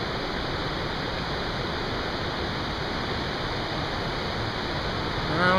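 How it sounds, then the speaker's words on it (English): Steady broadband rush of a waterfall at Swallow Falls State Park, Maryland, heard from a distance as a continuous even roar with no voices. "Falling water?"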